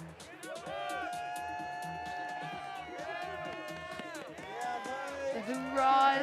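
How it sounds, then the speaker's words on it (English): A crowd cheers at the Kings and Queens of Corbet's ski competition at Jackson Hole Mountain Resort, with sustained whoops and hollering swelling near the end, mixed with an announcer talking over it. "The hoorahs, the love from the crowd."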